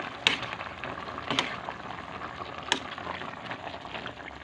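A pot of boiling vegetables, petchay, bubbles softly with a steady low simmer, punctuated by a few sharp clicks or taps of metal.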